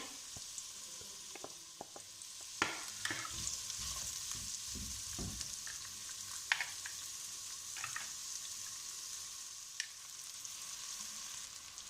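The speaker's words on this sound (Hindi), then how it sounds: "अब इसमें हमने ये प्याज फ्राई करने हैं।" Onions sizzle steadily in a pan of hot oil, with a few louder spatula scrapes and stirring clicks breaking through the continuous crackle; no one speaks.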